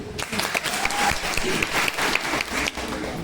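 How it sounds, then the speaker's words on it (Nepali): An audience at a success seminar in Butwal breaks into steady applause, many hands clapping together continuously at moderate loudness with a few brief tonal sounds over it. "म्यामको लागि एक ताली बजाइदिनु"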